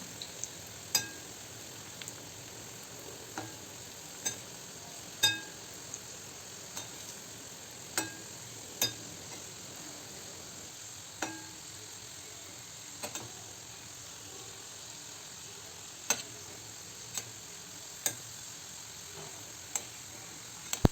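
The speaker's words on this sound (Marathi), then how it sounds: "आपण समोरच्या साईड पण तळून घेऊया" Modak dumplings fry in oil, giving a faint, steady sizzle broken by sparse, sharp little pops and ticks spread across the whole stretch.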